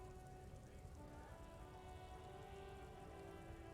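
Rain in the game Disco Elysium falls in a dense, even hiss of drops on surfaces, continuous and close with no talk over it.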